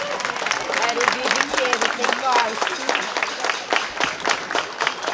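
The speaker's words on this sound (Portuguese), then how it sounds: "palmas para a Corporação Musical 24 de junho" Applause from a crowd at a Brazilian festa junina outdoor band event for the Corporação Musical 24 de Junho brass band, steady clapping throughout alongside an announcer talking over it.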